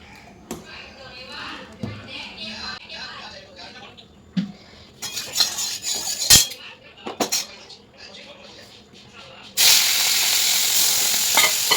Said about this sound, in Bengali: দিয়ে দিলাম ফোড়ন সর্ষে শুকনো লঙ্কা